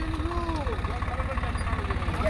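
A Swaraj 742 tractor engine idles with a steady low throb, loud and continuous, while voices talk over it nearby.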